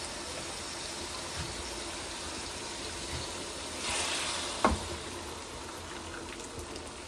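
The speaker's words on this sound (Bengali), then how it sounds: "এখন ঝোল দিয়ে দেব।" Broth poured into a hot pan of frying rui fish and cauliflower curry gives a steady close hiss, with a brief louder splashing gush partway through and no talk.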